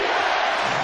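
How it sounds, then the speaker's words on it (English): Loud, sustained roar of an NBA playoff crowd cheering in the arena during a Clippers–Pacers game, a dense continuous wall of voices. "Crowd loving it."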